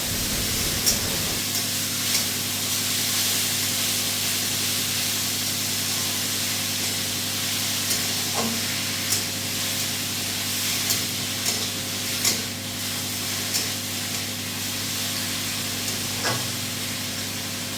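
Shrimp and ash gourd leaves frying in a pan, with a steady hiss of sizzling and occasional soft knocks and scrapes of stirring throughout, no talking.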